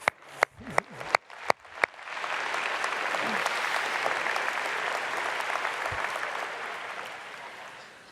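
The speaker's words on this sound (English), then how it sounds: "That deserves a clap." A conference audience breaks into applause at a business talent event, starting with a few sharp isolated claps that swell into sustained, dense clapping from a large crowd, steady and fairly loud, without speech.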